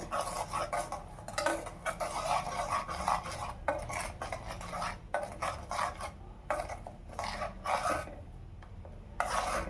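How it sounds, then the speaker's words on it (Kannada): A spoon scrapes and clinks steadily in a bowl as gooseberry powder is mixed into homemade hair oil, making close, continuous rubbing and stirring sounds with brief pauses. "ಈಗ ಎರಡು ಸೇರಿಸಿ ಎಲ್ಲನೂ ಮಿಕ್ಸ್ ಮಾಡಿಕೊಂಡು ಈ ಥರ ಕಲಿಸ್ತಾ ಇರಬೇಕು"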